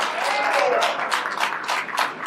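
Audience applause at a mayoral forum in Trenton, a dense, steady clapping from a crowd that fills the whole moment without letting up.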